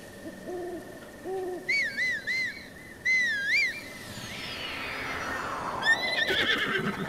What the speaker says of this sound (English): Why don't you call your horse?